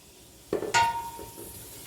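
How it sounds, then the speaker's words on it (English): Diced small onion hitting a hot pan for sautéing, a sudden sizzling burst with a clink of a utensil against the pan, then a fading hiss, close up. "I'm going to go ahead and saute that"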